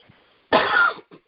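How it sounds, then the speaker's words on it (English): A single harsh cough, close and loud, lasting about half a second, with quiet moments before and after. "I apologize again for this cough"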